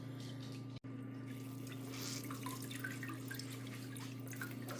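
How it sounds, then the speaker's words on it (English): Whey dripping and trickling from farmers cheese curds being squeezed by hand, a steady faint liquid patter over a low background hum, with one brief dropout near the start. "we're going to take and gather this up and squeeze it and get all of the whey out"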